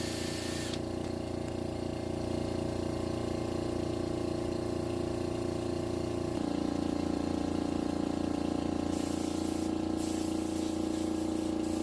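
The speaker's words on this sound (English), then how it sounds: "Sandblasting removes the discoloration without disturbing the texture." Sandblasting metal to strip discoloration makes a continuous hissing, pumping roar with a steady mechanical hum that shifts slightly in pitch partway through and never stops.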